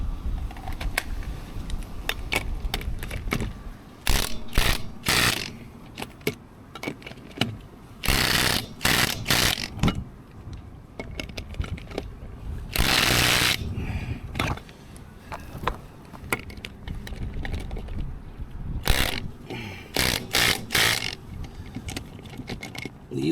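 Power tool driving tire lug nuts during a tire change in a garage, heard as repeated loud bursts of rattling impact hammering separated by brief pauses, with handling noise between runs.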